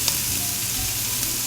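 Sausage and a large heap of cabbage sautéing in a pan, a dense, continuous hiss of frying that stays even and close throughout.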